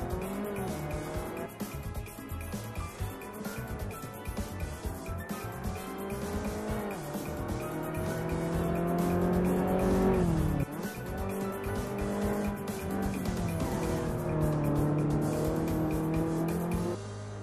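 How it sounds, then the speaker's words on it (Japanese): An Abarth 500SS races around the Vallelunga circuit in Assetto Corsa, its small engine buzzing steadily as it climbs and drops through the gears, with tire squeal layered over the continuous drone and no talking. "車はアバルト 500SS、 コースはバレルンガサーキットです"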